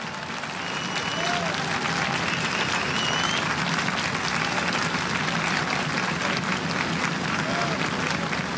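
Sustained applause from a large crowd at the opening ceremony of a political party congress fills the whole stretch, loud and steady, with scattered voices and shouts mixed into the dense clapping.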